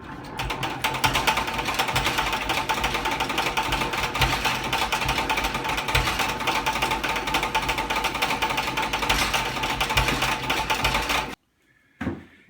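A handheld heat gun whirs loudly and steadily during a backyard honey harvest, a constant close mechanical drone that cuts out abruptly near the end, leaving near silence before a short clatter.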